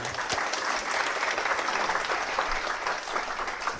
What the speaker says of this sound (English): So let's give applause to him.